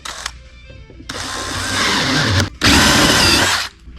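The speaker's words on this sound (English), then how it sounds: "You want to go nice and easy. Let the bit work its way in." Power drill boring a hole while building a magnetic probe for gold prospecting, loud and steady in two sustained bursts separated by a brief pause, with no talk over it.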